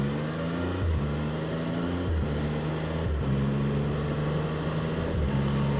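A 2024 Can-Am Spyder RT-Limited three-wheeled motorcycle pulls away gently, its engine humming steadily and rising through gradual shifts, with short dips between gears roughly every second.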